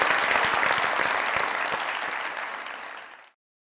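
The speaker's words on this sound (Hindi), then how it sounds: "जोरदार ताली और माइक दिया जाए सर को।" Loud applause from a studio audience at a Pakistani comedy show, a dense wash of clapping that holds strong and then tapers before cutting off abruptly into silence.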